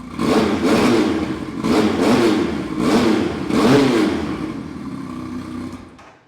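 A BMW S1000RR-style Chinese motorcycle engine revs hard in several repeated surges, each rising and falling, loud and close, then eases off at the end.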